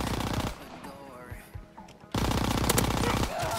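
Automatic gunfire during a 2v2 Hardpoint wager match in a video game, sparse shots at first, then a loud sustained burst in the second half.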